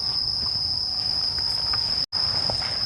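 Cicadas in Toyama Park give a steady, high-pitched whine that holds throughout with a brief break near the end, over a low bed of distant city rumble.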